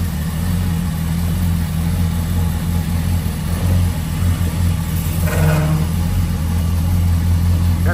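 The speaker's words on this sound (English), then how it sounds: "Got big tires on it. You can hear that one rub." A street-rodded 1934 International pickup with big tires and no power steering drives along, its engine running steadily and close, with a brief scraping rub of a tire against the body around the middle.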